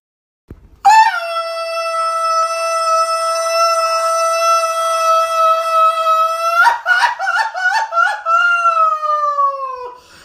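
Played sound effect of a long, loud, sustained howl with a rich harmonic tone, holding steady for several seconds before breaking into rapid wavering yelps and a final falling note, heard alone.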